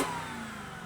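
A car engine held at high revs with the exhaust valve closed, a steady loud exhaust drone with a deep rumble, close by.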